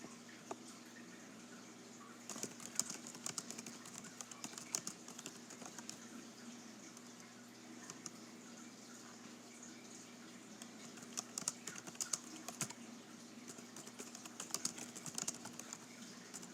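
Soft, quick keyboard typing as a message is written on a computer, irregular clusters of light key taps over a steady low hum, faint and close.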